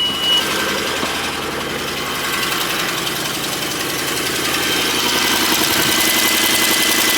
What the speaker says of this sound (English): It almost sounds like a leak, like from the headers, exhaust leak